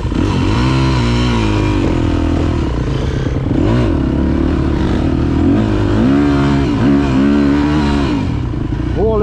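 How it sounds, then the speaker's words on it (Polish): Yamaha 250 motorcycle engine running, a loud close idle with repeated revving swells and mechanical clatter, under people talking. "Mleko odpalił Yamaha"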